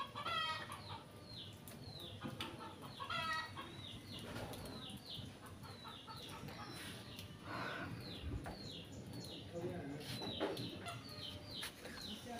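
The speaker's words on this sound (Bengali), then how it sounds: "বৃষ্টির দিনে মুরগিগুলো কিভাবে ঘুরে বেড়াচ্ছে" Chickens roaming outdoors on a rainy day cluck and call repeatedly, with a rooster crowing and wings flapping now and then, all over a steady hiss of rain.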